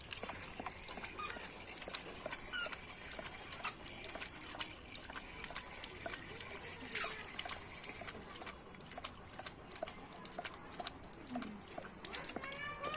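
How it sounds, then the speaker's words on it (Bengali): A water tap left running for a pet named Jenny to drink. A faint, continuous trickle and splash continues throughout, with light clinks and some background voices. "জেনিকে কলটা খুলে দিই"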